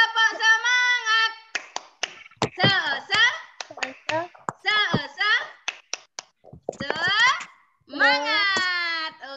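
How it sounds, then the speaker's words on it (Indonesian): Schoolchildren in an elementary classroom perform a chanted clap routine, short sharp hand claps in rhythmic bursts interleaved with their loud sing-song group chanting and a teacher's voice. "Tepuk semangat."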